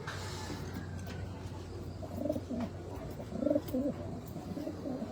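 Stock pigeons in a breeders loft give soft, repeated low coos over a faint steady background hum.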